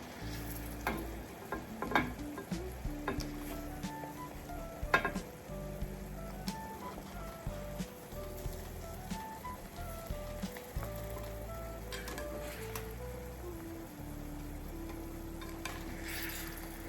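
Fish fry in a hot pan with a steady, low sizzle that runs unbroken for the whole stretch, a few soft clinks scattered over it.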